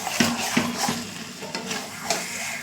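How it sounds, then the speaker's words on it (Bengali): Pieces of mutton sauté in a pan with a steady sizzle, punctuated by several distinct scraping stirs of a spatula. "মাটনটা এবার আমি ভালো করে কষাবো।"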